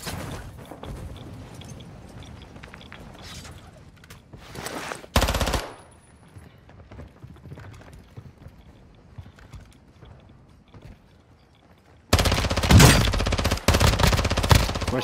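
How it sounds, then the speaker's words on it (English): Bursts of SMG fire in the shooter game DMZ, a sharp loud volley near the start and a long dense rapid burst at the end, with quieter game ambience between. "Need to pull out my SMG."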